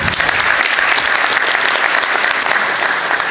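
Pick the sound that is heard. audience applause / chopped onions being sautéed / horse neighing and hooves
audience applause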